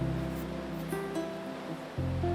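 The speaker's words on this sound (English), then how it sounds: "This is on the way up to Jasper, and it is the Athabasca River." The Athabasca River on the way up to Jasper flows with a steady, broad rushing wash, continuous and fairly even, joined by some tonal hum.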